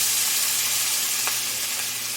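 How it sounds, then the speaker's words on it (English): Marinated fish frying in hot oil gives a steady, close sizzle with a soft hiss and no talking. "That sizzling sound in oil."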